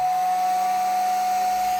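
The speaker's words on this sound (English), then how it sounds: "Let's turn on the hair dryer on low and see what kind of voltage drop we're getting." A hair dryer set on low, powered through a 12-volt VEVOR 3600W inverter, gives off a steady, even whir with a constant high hum throughout, with no talking.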